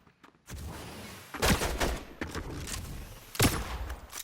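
SMG gunfire in Fortnite: two loud bursts of rapid shots stand out above a steady game-sound bed, the first burst early and the second near the end, with smaller pops between them.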